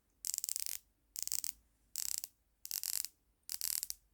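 A San Martin 1000m diver watch bezel being turned in five short bursts of rapid ratcheting clicks, close and crisp, separated by brief pauses, with no speech.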